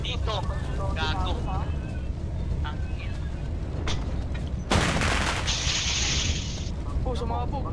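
A loud, sudden burst of explosion noise in the game Rules of Survival cuts through chatter and background game audio, followed by a bright hissing tail lasting a couple of seconds.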